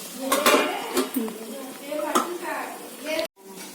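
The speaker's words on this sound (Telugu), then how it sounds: "రెండు నిమిషాలు మళ్ళీ మూత పెడతాం" A metal lid set back onto a pan of frying fish, with clattering and clinking of cookware in a few sharp bursts, a final knock, then quiet; someone speaks over it.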